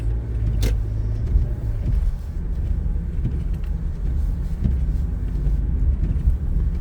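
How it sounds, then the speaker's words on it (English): A car drives along an icy winter road during a driving test, its steady low engine and tyre rumble heard from inside the vehicle, with no talking. "So now I can see that there's a car coming"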